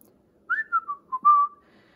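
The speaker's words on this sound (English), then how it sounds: "Can I whistle?" A person whistles a short, bright melody of about five quick notes, sliding in pitch, close and clear against quiet.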